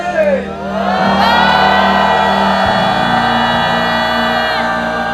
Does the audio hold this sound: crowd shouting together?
yes